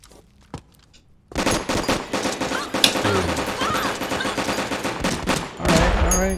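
Metal Gear Solid 4 firefight: after a quiet start with a single sharp shot, sustained rapid gunfire erupts and continues loudly in dense volleys, with a voice speaking partly beneath it.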